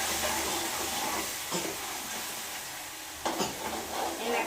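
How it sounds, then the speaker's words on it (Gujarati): Red chili powder sizzles in hot oil for a cashew masala curry, a steady frying hiss with two brief louder bursts from stirring partway through. "એના ઘડીક આપણે તેલમાં શેકાવા દઈશું."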